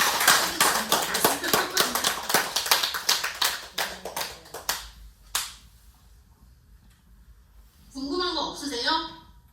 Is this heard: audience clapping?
yes